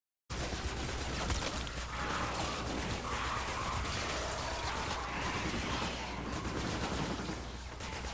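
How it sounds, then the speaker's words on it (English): Mercury LMG from Fortnite Save the World firing in one sustained, dense burst of rapid gunfire lasting several seconds, loud and close, with no talking over it. "As soon as you shoot this gun, it gets stronger and stronger."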